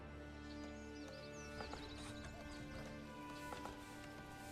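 Horse hooves clip-clop steadily in the medieval city-building game Manor Lords, with a neigh rising over the constant game ambience and music, no talk.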